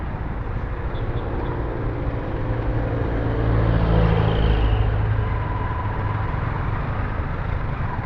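Yamaha Sniper 155 motorcycle ridden at speed in traffic, a steady loud engine drone and road rumble that swells briefly midway, then settles back to a constant hum throughout.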